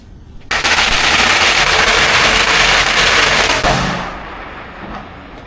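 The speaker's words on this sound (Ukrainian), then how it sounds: "Це ось такі споруди, в яких запалюють петарди, які взриваються." Firecrackers go off at a Buddhist temple in Thailand in a dense, loud crackling barrage that lasts about three seconds, then fades into a softer rumble of echo and background noise.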